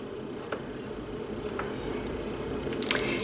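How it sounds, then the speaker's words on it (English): Thick, non-runny liquid foundation scooped into a container, giving soft, wet squishing and sticky clicks, close up and fairly quiet, with a few faint higher taps near the end. "So we will just scoop that into there."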